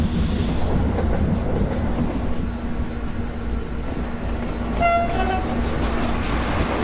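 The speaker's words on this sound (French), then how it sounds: "un wagon qui doit avoir un essieu endommagé là" Freight wagon with a damaged axle rolling along in Train Simulator, a steady rumbling roar with a faint metallic ringing near the end.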